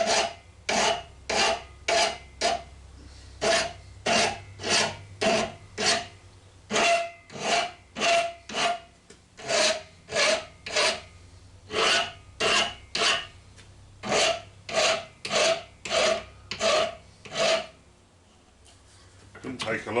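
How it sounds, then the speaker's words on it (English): A hand file scrapes burrs off metal gear selectors from a Cormak ZX 7045 mill head in close, steady rasping strokes, about thirty in a regular rhythm with a short pause between bursts. "They've got the horrendous burrs on them, so just a bit of file work."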